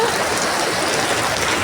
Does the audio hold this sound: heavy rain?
yes